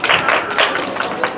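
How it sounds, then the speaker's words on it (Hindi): Students in a school classroom clap together in a short, uneven burst of scattered hand claps, moderately loud and close. "आप लोग क्लैप करेंगे, तालियां बजाएंगे।"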